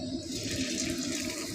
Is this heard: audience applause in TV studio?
no